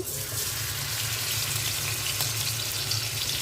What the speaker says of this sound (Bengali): তেল দিয়ে দিচ্ছি এখন আমি মাছগুলো দিয়ে দিচ্ছি